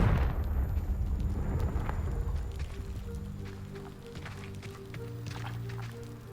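A Confringo fire-curse explosion from the video game Hogwarts Legacy bursts loudly at the start, followed by a rumbling tail and scattered crackles over a sustained low game hum.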